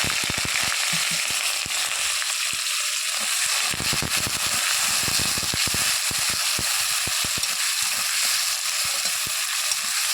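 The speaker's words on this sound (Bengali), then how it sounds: "পেঁয়াজটা ভাজা হতে থাক।" Chopped onions fry in hot oil with a small amount of sugar in a home kitchen, giving a steady, loud, continuous sizzle and crackle with irregular pops throughout, and no voices.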